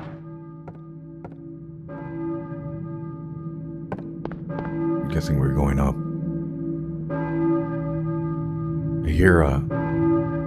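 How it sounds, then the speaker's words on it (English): A church bell rings with sustained, steady tones in the Silent Hill video game, repeating strikes that hum under a player talking over it. "I know what a church bell sounds like"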